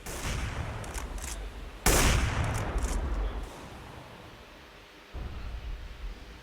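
Wall bang gunfire in a CS:GO pro match on Cache, a sharp loud shot followed by a lingering noisy wash and then another muffled burst, with no voices over it.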